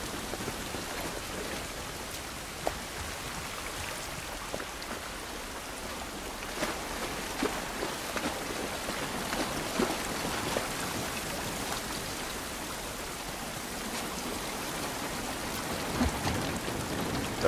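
Steady rain falls outdoors in The Last of Us Part 1, a constant hiss of drops pattering on surfaces with occasional sharper splashes and a faint low rumble beneath.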